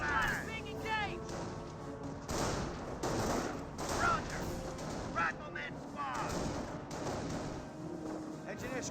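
Rifle squads trading gunfire with Panzer Grenadiers in the World War II strategy game Company of Heroes, a dense, faint battle din of rifle and machine-gun bursts and booming explosions, with a voice talking over it.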